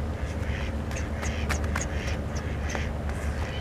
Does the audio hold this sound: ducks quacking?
yes